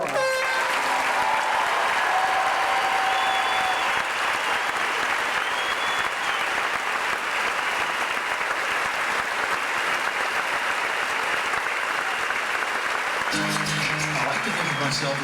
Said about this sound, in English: Let's give our customers a loud round of applause.